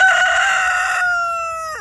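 A rooster crows once, loud and close, a single drawn-out call that trails off toward the end.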